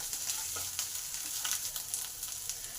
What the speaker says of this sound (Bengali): আদাটাকেও ভালো করে ভেজে নেব।